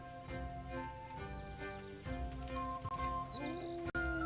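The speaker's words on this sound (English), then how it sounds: "That's a horse." A horse's hooves clip-clop in a Kingdom Come: Deliverance game scene, a few spaced thuds heard under steady game music with no talking.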